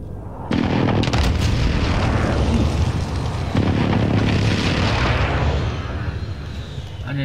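Video game airstrike explosions boom in two heavy blasts a few seconds apart, each followed by a long, loud rumbling roar that slowly fades.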